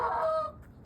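A single chicken gives a drawn-out clucking call that trails off, followed by a short faint squawk, heard close and alone with no talking.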